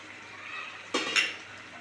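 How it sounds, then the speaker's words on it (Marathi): Spoon scraping and clinking against a pan while stirring dal kanda, a moth bean dal cooked with onion, with a brief louder scrape near the middle of a short, fairly quiet passage. "आणि परत एकदा हलवून घेऊया व्यवस्थित"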